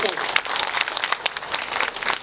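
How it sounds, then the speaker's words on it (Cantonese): An audience applauds at the opening ceremony of a calligraphy diploma graduates' exhibition, a dense, steady clapping that runs without a break at moderate loudness from a roomful of people. "我哋俾啲掌聲，熱烈掌聲"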